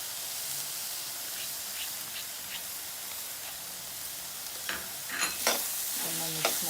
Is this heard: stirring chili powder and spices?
yes